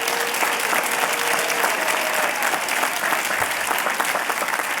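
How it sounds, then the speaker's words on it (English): Sustained, dense applause from a large audience at a university class day ceremony, steady and loud with no gaps across the whole stretch. "So let's give them another round of applause"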